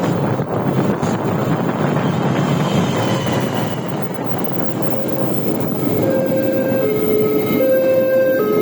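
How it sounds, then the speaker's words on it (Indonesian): A train passes close by with a loud, steady rumble of wheels on rail and heavy wind buffeting, while a few brief horn-like tones sound toward the end, heard from a motorbike ride between Wlingi and Nglegok. "Wah, ada kereta"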